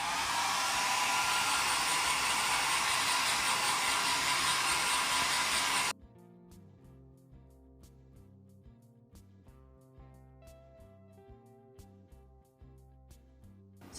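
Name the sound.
Philips HP8100/60 hair dryer running on low temperature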